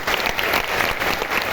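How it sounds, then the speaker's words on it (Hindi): Loud, close applause fills the room as an audience claps for a guest being honoured, a continuous crackle of many hands with no break. "तालियां बजती हैं ऐसे फरिश्ते के लिए"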